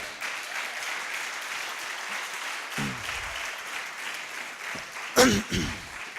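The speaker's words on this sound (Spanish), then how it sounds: "dale un aplauso al Señor" A congregation at a Sunday church service keeps up a soft, continuous round of applause, fairly distant and even, while a few brief voices break through near the end.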